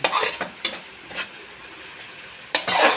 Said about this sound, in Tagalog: Kaya lang mag-fried garlic muna po tayo. Garlic muna po natin luto.